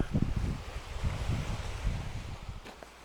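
Sea waves wash onto the shore in rolling low surges. Wind buffets the microphone throughout, and the surf fades slightly toward the end.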